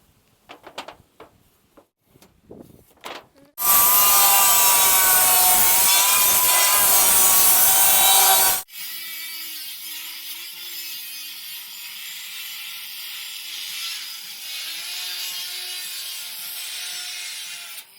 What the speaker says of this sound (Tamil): இதை நம்ம வந்து சென்ட்ரா மார்க் பண்ணி ரெண்டு பாதையாக கட் பண்ண போகிறோம்